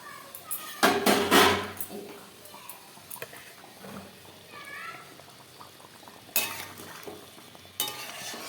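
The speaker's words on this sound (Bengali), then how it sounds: "এরকম কড়াইতেই আমরা সিদ্ধ করি। তো চলো 20 মিনিট এটা ফুটুক" Goat mutton simmers in an open kadai, with soft bubbling and occasional loud bursts of stirring and pot clatter breaking through a quiet background, heard close by.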